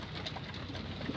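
Pigeons coo faintly and briefly in a loft, with a soft low call or two near the end over quiet background noise.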